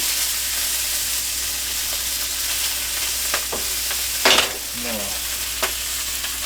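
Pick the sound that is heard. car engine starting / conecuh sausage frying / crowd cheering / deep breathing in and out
conecuh sausage frying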